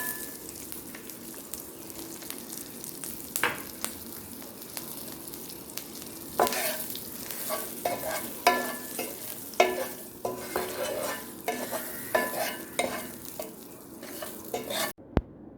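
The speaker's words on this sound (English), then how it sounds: "And we'll add some haldi in the oil to again give it a good color." Turmeric, salt and spices frying in oil for a paneer biryani, stirred with a utensil: steady close sizzle broken by scraping and clinking strokes against the pot, with no talking.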